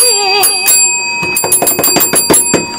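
Several bright bell rings, first a wavering sustained tone then a quick series of sharp repeated dings, loud and close.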